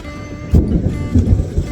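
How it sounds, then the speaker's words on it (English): A low rumble of thunder rolls in over steady rain, with a few soft thumps in the background; no voices. "It's thundering."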